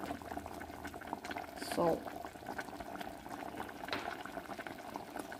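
Miswa soup with ground meat bubbling at a steady simmer in a home kitchen pot, a continuous low rolling boil running throughout with a brief louder burst of bubbling near the middle.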